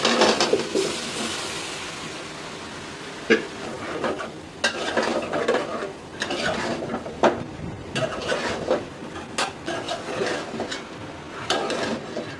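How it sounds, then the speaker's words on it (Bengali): Vegetables are stirred and fried in a pan, with repeated scraping strokes of a spatula against the metal at an irregular pace over a faint, steady sizzle. "এখন আমি সবজিটা দিয়ে দেব।"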